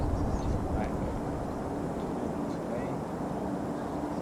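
A DJI Mini 4K drone flies and turns outdoors, giving a steady, even whirring drone under broad wind rumble that holds at a constant level throughout, with a voice talking over it.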